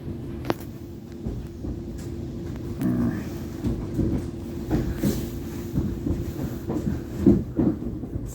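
Southwestern Railway Class 707 electric train heard from inside while running on rails toward London Waterloo: continuous rumbling roll with clattering wheel beats and rising, uneven motion noise, no speech.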